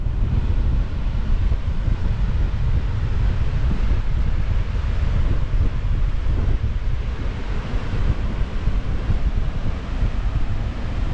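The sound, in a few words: strong wind on the beach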